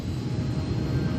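A British Airways airliner takes off from Birmingham, England, a steady broadband jet roar with low rumble, loud and continuous for the whole short stretch.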